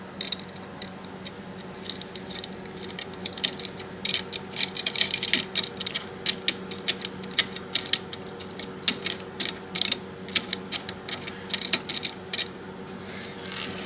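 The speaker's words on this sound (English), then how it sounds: "We're going to screw on this side." Screwing a side onto a Summit docking system for a Summit shuttle gives a close, steady run of ratcheting mechanical clicks and metal turning sounds, with louder bursts in the middle and no talking.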